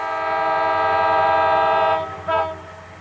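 A heavily loaded CSX coal train on the Clinchfield line sounds a loud, sustained multi-chime horn close by for about two seconds, then gives a second short blast over the steady rumble of the train.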